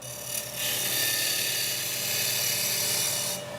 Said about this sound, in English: I'm just going to use the side wing just to skim over